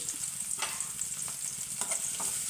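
Chopped onion frying in hot oil in a clay pan, a steady soft sizzle with occasional stirring scrapes, close and fairly quiet, no voices.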